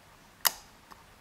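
A single sharp, close click from a Yale Platinum lock pin being picked, followed by a much fainter second tick, in an otherwise quiet setting.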